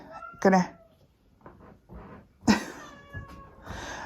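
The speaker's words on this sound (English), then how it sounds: "My cat's decided that she's in this conversation, so you're gonna hear her in the background" A cat meows twice, a drawn-out cry near the start and another a couple of seconds later, with quieter sounds between.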